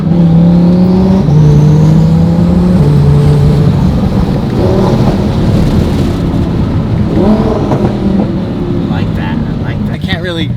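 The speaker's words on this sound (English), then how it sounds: "Yeah, it's a nice downshift." A twin-turbo Audi R8 RWS engine steps down through the gears in a series of falling rev tones with throttle blips, then roars back up, loud and close with speech now and then over it.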